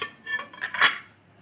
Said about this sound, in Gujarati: આપણે કુકરની અંદર આ કાંઠો રાખી દેશું